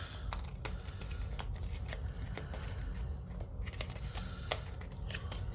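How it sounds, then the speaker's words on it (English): Playing cards from a zombie board game being shuffled on a table, a fairly faint run of repeated riffling snaps and papery ruffles over about five seconds. "And then we just shuffle these up real good."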